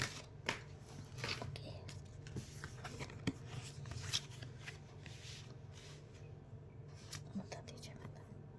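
Tarot cards being shuffled by hand, a crisp repeated riffling and slapping close to the microphone over a low steady hum, with soft whispered voice in places.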